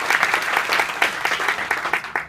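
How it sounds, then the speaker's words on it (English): Audience clapping at a TypeThursday typography event in New York City, a steady patter of many hands from a small crowd at moderate volume. "Round of applause for those guys"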